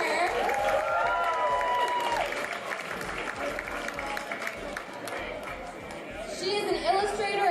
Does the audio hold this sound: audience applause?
yes